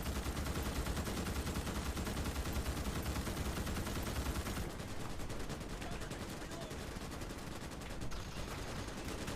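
Sustained turret fire in the Starship Troopers: Extermination video game, a dense unbroken roar of rapid shots that stays loud for the whole stretch and thins slightly partway through.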